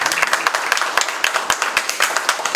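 Audience applause at a Korean district policy forum seminar as a presenter or panelist is welcomed, a dense stretch of many hands clapping at moderate loudness, steady and unbroken with no talk over it.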